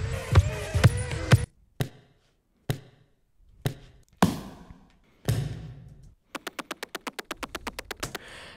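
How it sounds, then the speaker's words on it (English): Warped samples of dancers' feet striking the ground: a few processed thuds and knocks, scattered sharp taps with silent gaps, then a fast even run of clicking ticks, close and dry with no talking. "these are all just warped sounds of dancers dancing and their feet on the ground"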